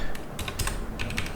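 Keys tapped on a computer keyboard while entering guesses into a Mastermind programming project, a quick run of close, crisp clicks in small bursts with no talk.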